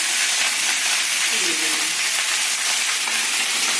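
Long potato strips fry in a pan for a flat-bean curry with ground nut paste, giving a steady, close, hissing sizzle that holds evenly throughout.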